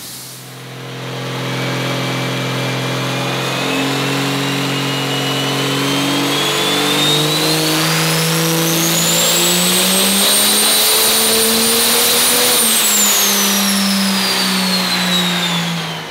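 A high-horsepower regular-cab short-bed pickup truck engine revs hard on a dyno, its pitch climbing steadily for about twelve seconds before easing back down, loud and close.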